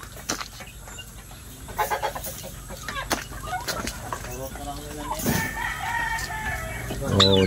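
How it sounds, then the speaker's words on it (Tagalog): Large turkeys on a provincial farm gobble and cluck in scattered bursts near and far, with people talking over the calls. "So dito naman tayo sa malaki mga pabo"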